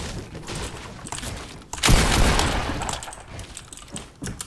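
Gunfire aimed at the player in Fortnite Battle Royale: a dense, loud burst of rapid shots erupting midway, with scattered shots before and after.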